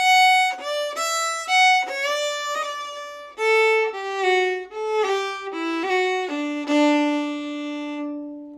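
Solo Irish fiddle playing the end part of a tune: a lively run of bowed melody notes, stepping downward and settling onto a long held low note, clear and alone.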